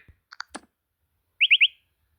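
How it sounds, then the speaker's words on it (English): A funny car alarm ringtone plays a few clicks and a short warble, then three quick, bright, chirpy beeps in a row, with silence around them. "Car alarm funny."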